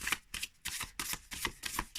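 A brand-new tarot deck being shuffled by hand, a series of quick papery riffles and flutters in uneven bursts, close and fairly soft, with no talking over it.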